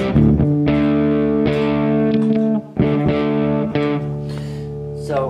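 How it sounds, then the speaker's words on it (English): Heavily distorted electric guitar chords through a Greenhouse Effects Self-Titled analogue modular pedal with distortion module ring out loud and sustained, strummed in a few bursts with a brief pause midway, fuzzy and saturated. "greenhouse effect self-titled with a distortion module inside"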